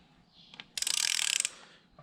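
A ratchet turning a Subaru FA20 engine over by hand gives a quick, close burst of rapid clicking pawl ratchet sounds after a couple of faint clicks, in an otherwise quiet space.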